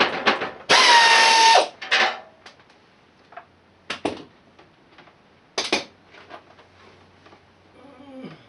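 Socket wrench work while rebuilding a Craftsman: a few short, sharp metallic clicking and ratcheting bursts separated by quiet gaps, close and fairly loud, with one longer whirring stretch near the start.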